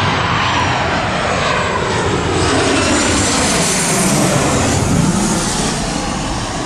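Low-flying cargo airplane passing right overhead, a loud sustained engine roar with broadband jet-like rush that stays strong and swells slightly as it crosses close above.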